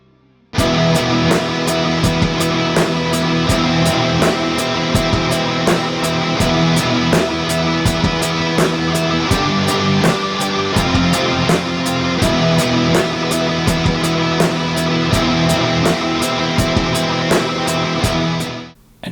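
Full band groove where the guitar timing wanders sloppily, falling behind and rushing ahead of the beat, loud and continuous with steady drum hits and ringing chords, no talking.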